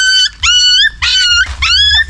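A puppy in an African village yard gives several high, shrill yapping barks and whiny yips in quick succession, loud and close, with no talking over them.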